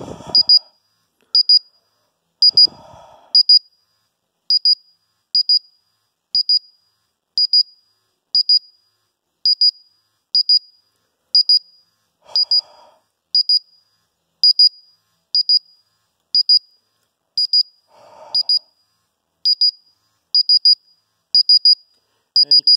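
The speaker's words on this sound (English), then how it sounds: "So we see we've hit the low alarm." ToxiRAE Pro carbon dioxide gas detector sounding its low alarm: regular sharp electronic beeps in evenly spaced pairs for over twenty seconds, with a few short low bursts of talk between them.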